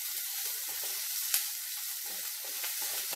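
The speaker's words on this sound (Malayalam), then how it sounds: "ചെറുതായിട്ട് പച്ചമുളക്, നീളത്തിലരിഞ്ഞ ഉള്ളി, വെള്ളിട്ടൊന്ന് ചെറുതായിട്ട് വഴറ്റിയെടുക്കാം" Garlic, green chilli and sliced onion sauté in hot oil for a restaurant-style soya chilli, giving a steady close sizzle with a few small crackles and a brief pop, and no voices.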